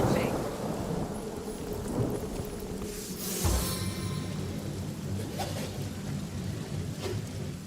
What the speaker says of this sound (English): So I'm gonna cast rain because that fills their fuse.